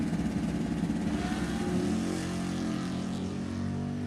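A 1972 Datsun and a Mustang launch off the line in a drag race, engines roaring loudly and revving in a steady, rising drone, with no talking.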